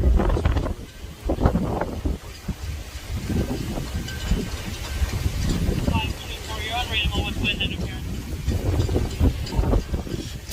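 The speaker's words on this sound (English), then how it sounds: "It's very windy out here." Strong outdoor wind buffets the microphone with a constant low rumble across the whole stretch, while a person talks intermittently over it.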